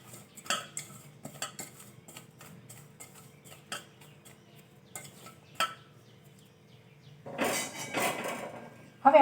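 Spices for a green chilli pickle being stirred and mixed, with quiet scattered clinks and taps of a spoon against a bowl and a louder scraping rustle near the end, close and sparse, without talking.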